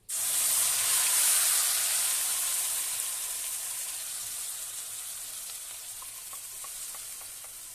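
Onion paste hits a hot pan of oil with bay leaf, dried chilli, cardamom and clove, bursting into a loud hissing sizzle that gradually settles into a steadier, softer fry.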